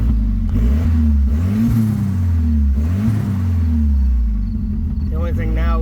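Car engine running rich after a wiring change to staggered injection, a loud close rumble with the revs rising and falling in slow swells, ending in a rough fluttering sputter.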